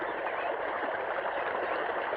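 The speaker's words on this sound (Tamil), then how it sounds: "வாய்க்கால எவ்வளவு தண்ணி போகுது" Water rushes steadily along an irrigation channel on a farm, a continuous broadband stream sound at moderate level with no voices over it.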